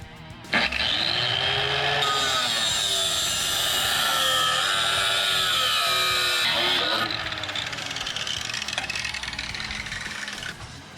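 A power tool cuts off the welded bracket of a pit bike muffler on a mini bike exhaust, its loud, steady whining grind running for several seconds before easing off.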